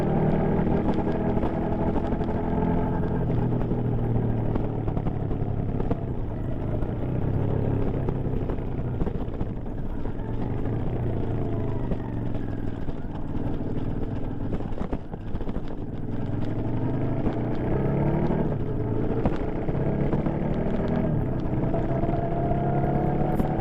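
A Royal Enfield INT650 motorcycle engine with stock exhaust drones steadily throughout, a low rumbling hum with wind noise, as if recorded while riding, no talking.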